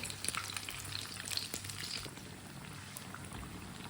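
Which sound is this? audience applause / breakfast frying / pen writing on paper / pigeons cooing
breakfast frying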